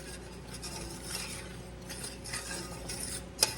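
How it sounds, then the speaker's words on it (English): A spoon scrapes and stirs quietly through lime white chocolate fudge bubbling in a pot over medium heat, with soft close clinks and one sharp metallic tap near the end. "Just stay on it stirring"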